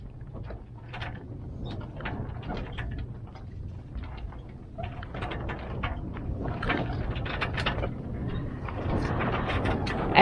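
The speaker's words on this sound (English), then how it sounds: "we're in a lull right now and the head sail is flapping a little bit" Head sail of a Catalina Capri 26 sailboat flapping in a light southwest breeze during a lull, irregular fluttering rustles and soft snaps over steady wind noise, no talk.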